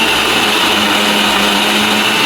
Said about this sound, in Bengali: আর আজকে আমি ফার্স্ট টাইম মিক্সি মেশিনে মশলা বাটা করব।